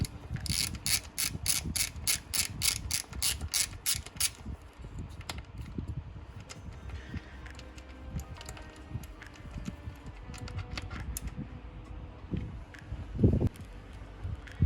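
A hand ratchet unwinds bolts from the intercooler of a Mazdaspeed 3, with a rapid run of crisp clicks up close at first, then scattered faint metallic handling noises and a thump near the end.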